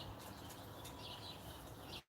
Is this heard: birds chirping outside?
yes